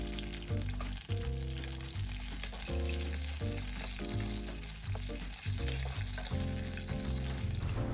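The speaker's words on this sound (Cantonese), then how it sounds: "而家就放浸軟咗嘅辣椒乾同埋蒜粒落去爆香。" Soaked dried chillies and garlic cloves sizzle and fry in hot oil for Malaysian Klang bak kut teh, a steady close crackle running under loud background music.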